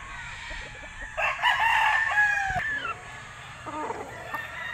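A White Kelso gamefowl bull stag crows once, loud and close, a long drawn-out call at a game farm summer sale, followed by softer clucking.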